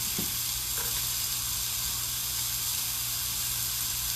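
Skirt steak sizzles in a hot skillet, a steady close frying hiss that holds the whole time with a faint spray burst near the start.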